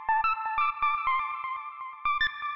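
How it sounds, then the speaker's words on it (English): Synth lead for Chicago deep house played through a vintage-style echo delay, short plucked notes in a quick rhythm with each repeating as softer trailing echoes, heard alone. "The echo really helps for like the vintage kind of like delay feel."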